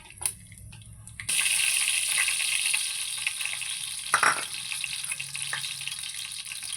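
Whole spices such as cinnamon, cloves, peppercorns, shahi jeera and cardamom hit hot oil for a dhaba-style chicken curry, bursting into a loud, steady sizzle after a brief quiet start, with a few stirring clatters.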